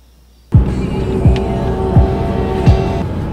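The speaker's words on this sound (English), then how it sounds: "wait till this car starts" A 450-horsepower Nissan SR20 engine run by an Apexi ECU fires up suddenly after near silence, then settles into a loud, close, lumpy idle with periodic low pulses.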